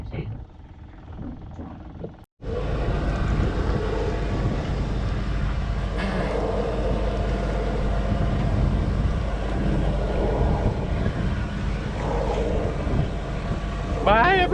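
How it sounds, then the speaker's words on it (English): A sailboat's engine, just started, runs with a steady loud drone and rumble that begins abruptly after a brief quieter moment and continues close throughout, with voices talking over it. "We just started up the motor."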